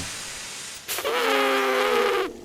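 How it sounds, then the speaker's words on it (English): A steam engine blowing off steam: a sudden loud hiss bursts in near the middle, joined by a whistle-like tonal shriek, holds steadily for over a second, then cuts off. "was just going to drink another when Henry let off steam"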